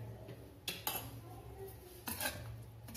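Spinach chickpea curry being stirred in a pot, with a few clinks and scrapes of a utensil against the metal, two distinct bursts over a quiet background hum.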